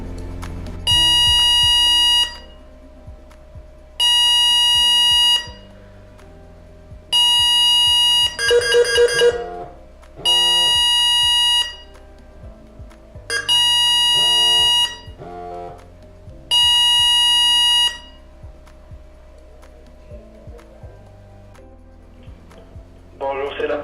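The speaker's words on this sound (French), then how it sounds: "Nous avons reçu une alarme perte de verticalité." Fall-detector alarm on an M-Body worker-safety device signalling loss of verticality: a loud, repeating electronic tone sounds in regular bursts about two seconds long, separated by short gaps, with a brief busier burst partway through.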